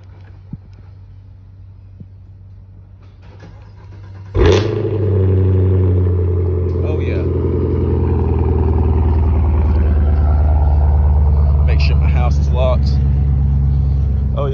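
A Camaro SS with Cherry Bomb Extreme mufflers cold-starts, cranking and firing up with a sudden loud burst, then settling into a deep, throaty rumbling idle through loud exhaust, with occasional revs.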